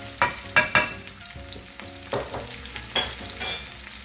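Ground chili powder sizzling in hot oil for Korean jjamppong, with a spoon stirring and scraping the pan in a few sharp knocks over a steady close frying hiss; no voices.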